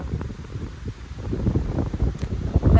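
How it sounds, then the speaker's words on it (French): Strong wind in Chicago, Illinois buffets the microphone, producing rough, gusting low rumbles that swell and surge unevenly, loud and close, with no talk. "si vous m'entendez pas bien, c'est parce qu'il y a pas mal de vent"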